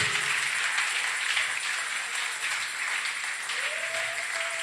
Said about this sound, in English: are you clapping or you are jealous?